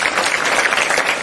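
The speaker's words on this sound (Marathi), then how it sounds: "त्याबद्दल त्यांच्यासाठी सुद्धा एकदा जोरदार टाळ्या" Steady applause from a school audience at a Teachers' Day program, honoring teacher Shelke; dense, continuous clapping throughout the short stretch with no voices over it.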